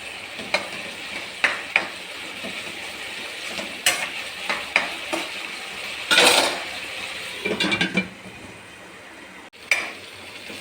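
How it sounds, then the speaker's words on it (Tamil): Ivy gourd (kovakka) sautéing in a pan, with a steady sizzle and frequent clinks and scrapes of a spoon stirring against the metal, close and fairly loud, with no talking. "നല്ല വഴറ്റി വിടണം."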